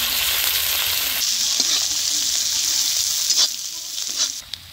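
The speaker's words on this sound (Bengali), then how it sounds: "তেল গরম হয়েছে এখন দিব জিরা, কাঁচা লঙ্কা আর পেঁয়াজ কুচি। হালকা করে আমি ভেজে নিব।" Cumin, green chillies and chopped onion frying in hot mustard oil, a loud, dense hiss that eases slightly after a second and softens near the end, with a few stirring scrapes.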